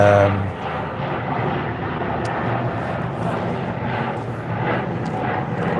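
An airplane passes overhead on approach to an east-west runway, producing a loud, continuous broadband engine roar that stays steady, close and alone for several seconds.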